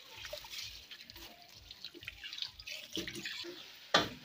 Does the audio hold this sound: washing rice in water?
yes